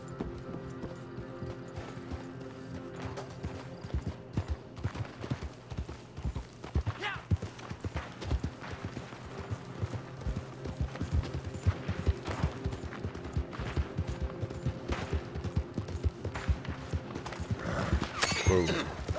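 Horse hooves clip-clop steadily on a dusty trail in Red Dead Online, a mid-level rhythmic patter running the whole time beneath game ambience and a few sharp gunshot-like cracks.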